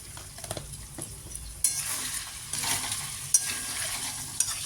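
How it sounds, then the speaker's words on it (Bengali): Spices with salt and turmeric fry and sizzle in a pan for a home-style Bengali bottle-gourd greens and poppy-seed dish, with a steady hiss broken by scraping stirs and a few sharp utensil knocks against the pan. "ভালো করে মশলাটা কষিয়ে নিতে হবে।"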